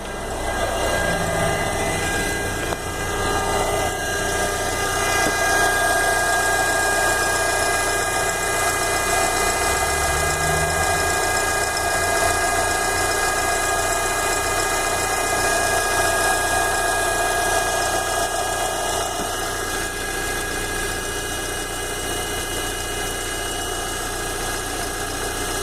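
A Fiat Palio 1.4 engine with about 90,000 km runs steadily with a noisy oil pump, a loud, constant droning hum with a whining tone, recorded close in the engine bay.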